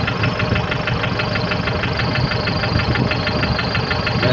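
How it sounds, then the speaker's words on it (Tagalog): A diesel tractor engine idles nearby with a steady, rapid knocking pulse, running continuously without pause and no one speaking. "Anda ng traktora yan"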